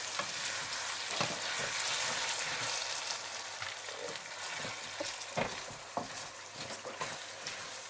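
Carpathian white mushrooms fry in oil in a pan as a steady close sizzle, with irregular stirring scrapes and taps over the continuous crackle.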